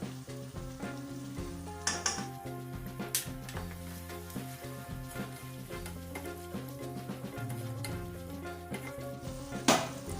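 Asafoetida powder sizzles in hot oil in a pan while brinjal rice is being made, giving a steady close frying crackle with a few stirring scrapes and no talking.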